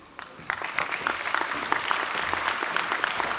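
A crowd at a university graduation ceremony in Brisbane applauds, steady dense clapping that holds at even strength throughout, with no talking.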